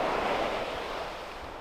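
Ocean surf at Chiqingtan beach in Taiwan makes a steady, broad wash of waves with some wind, continuous and fairly loud with no voices.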